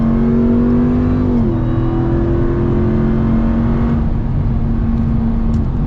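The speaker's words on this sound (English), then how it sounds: "the rate at which this truck accelerates is absolutely crazy" A 2021 Ram TRX pickup truck accelerating hard to pass on the highway, its engine drone loud and steady from inside the cab, pitch rising and then dipping as it shifts and settles back into cruise.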